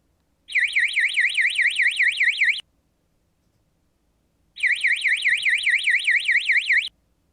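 A Xi 410 alarm signal indicator sounds two electronic warbling bursts, each about two seconds long with a pause between, loud and close, with no other sound.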